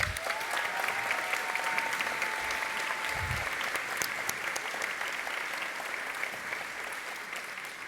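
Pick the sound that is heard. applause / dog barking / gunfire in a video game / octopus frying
applause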